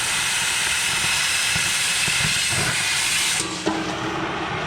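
Oxyfuel cutting torch hissing steadily and loudly as it preheats, then the trigger squeezed near the end with a brief pop and shift to a sharper oxygen-cutting roar.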